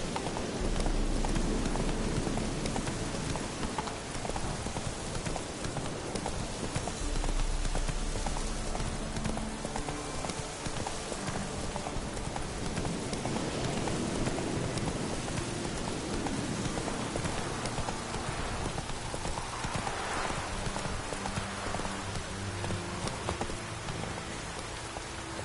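Roach, the horse in The Witcher 3: Wild Hunt, gallops steadily through rain, with continuous clip-clop hoofbeats under a constant hiss of rainfall across the whole stretch, fairly loud and close.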